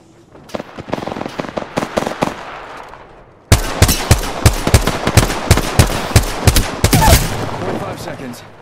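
Rapid bursts of gunfire in the Apex Legends video game, first moderately loud, then a louder, denser stretch of sharp repeated shots with a brief sustained blast near the end, with a voice speaking.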